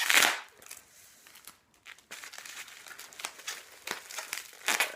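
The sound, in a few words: crinkling packaging while unboxing a Degusta Box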